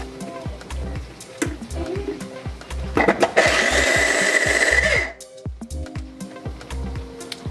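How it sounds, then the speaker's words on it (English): A Ninja food processor minces garlic in a loud whirring burst of about two seconds, set among quieter kitchen clatter and knocks before and after. "So to save time with mincing my garlic, I'm gonna use my Ninja."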